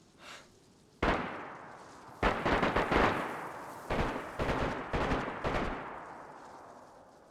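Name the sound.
gunfire from a video game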